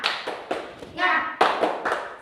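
A primary school class claps in a quick rhythmic pattern, sharp bursts of hand claps with short pauses between them, with a shouted voice in between.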